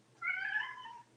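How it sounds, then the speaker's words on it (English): A house cat gives a single clear meow of about a second, close and moderately loud over a faint background hum, with no one talking. "Oh, that's my cat."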